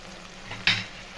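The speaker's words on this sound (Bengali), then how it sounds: "এরপর ভালো করে কষিয়ে নেব।" A spice paste of Kashmiri chilli, cumin powder, salt and a little sugar frying for aloo dum, a low sizzle rising into one sharp hissing burst near the end, brief and close.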